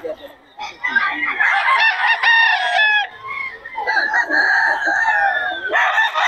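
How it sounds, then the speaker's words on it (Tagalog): Chickens cluck and squawk nearby while a rooster crows loudly, several birds calling over one another in a busy, continuous chorus. "Murang-mura mga manok ni Boss Joey mga idol."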